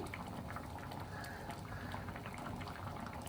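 Masoor lentil dal boiling in a pot gives off a faint, steady bubbling and popping that continues throughout.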